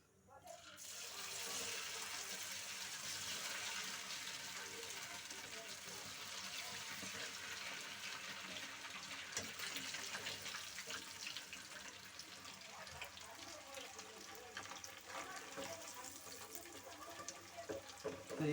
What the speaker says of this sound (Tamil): இட்லியை வந்து நல்லா பொரியட்டும், நல்லா வேகட்டும் சரிங்களா.